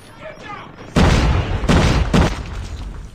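A cross-map grenade explodes in Call of Duty Mobile, a sudden loud close blast followed by two more heavy bursts and a rumbling tail, with faint sounds before the first hit.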